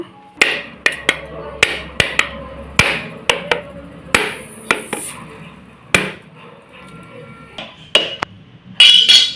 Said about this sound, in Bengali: এখন নারকেলটা ফাটিয়ে নিয়ে কুড়িয়ে নেব